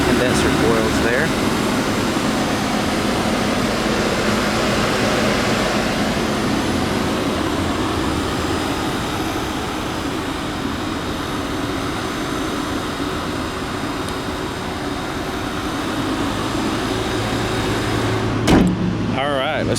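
A 2016 Nissan Maxima SL idles in a steady, smooth, broadband hum that stays even and moderately loud throughout, with a brief click near the end.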